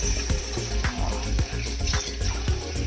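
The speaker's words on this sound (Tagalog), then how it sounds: "lagyan na isang basong tubig" Water poured from a glass into a pot of paksiw on the stove, a steady splashing, bubbling pour heard close up over the sizzle and clatter of the cooking pot, with no talking.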